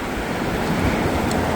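The flooded Little Miami River rushes past in a steady, broad roar of churning water, carrying debris downstream, with wind buffeting the microphone and no voices.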